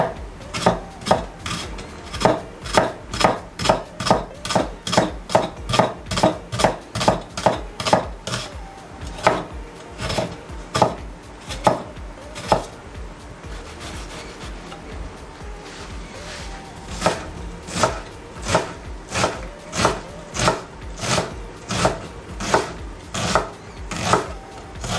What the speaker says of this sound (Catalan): Per fer la beixamel començarem tallant la ceba.